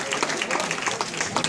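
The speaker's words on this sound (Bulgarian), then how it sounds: "Благодаря ти, аплодисменти" An audience breaks into applause, a close, dense patter of many hands clapping steadily throughout, with some crowd noise mixed in.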